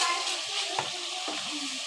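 Spice paste sizzling and frying in a pan while it is stirred, a continuous close hiss broken by a couple of soft scraping knocks, with no voices.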